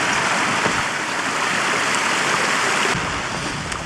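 Mountain stream rushing steadily on Kinder Scout, a continuous broadband wash of flowing water heard close and loud throughout with no voices, a faint click near the end.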